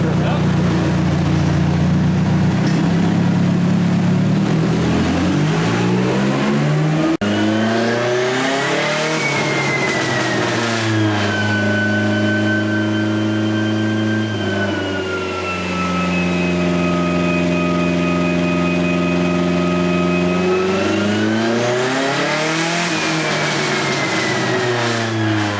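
Hyundai Sonata engine on a dyno, loud and close, rising from low revs into a long sustained high-rpm pull and sweeping back down before climbing again, the blow-off valve venting between changes.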